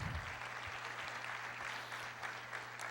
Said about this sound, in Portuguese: Aplauda, pode aplaudir o Senhor.